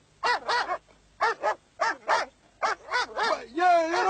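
A dog yaps in short bursts of two or three sharp barks, close and loud, ending in a drawn-out whine, with voices mixed in around the barking.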